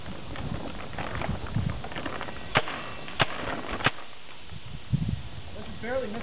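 An autonomous paintball sentry gun fires a few sharp, separate pops that stand out against a busy outdoor background, while people talk nearby.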